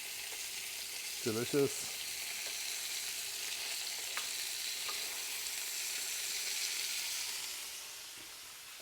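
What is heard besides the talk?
spring lamb chops sizzling in pan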